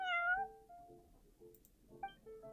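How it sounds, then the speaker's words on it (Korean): A cat meows nearby, starting with a clear rising-and-falling meow and then giving softer, shorter mews with a brief chirp toward the end, with no talk over it. "고양이잖아."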